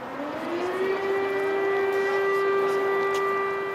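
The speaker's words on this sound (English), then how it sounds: "The air raid sirens are irregular now." A wartime air raid siren wails over Kyiv, rising in pitch and then holding a steady, droning tone with layered harmonics. It sounds moderately distant, carrying over quiet street ambience with no talk.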